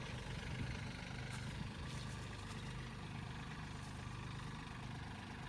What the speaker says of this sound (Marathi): तर लो गिअरमध्ये ना ओजा भरपूर हळू चालतोय मित्रांनो